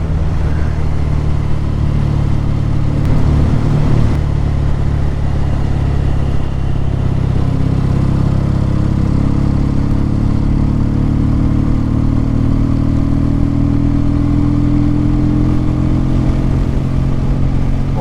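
A motorcycle ridden at a steady relaxed pace through the Gooseneck bends on the Isle of Man TT circuit, its engine droning loud and continuous with a rising tone and wind rush throughout.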